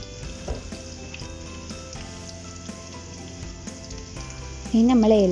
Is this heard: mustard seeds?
yes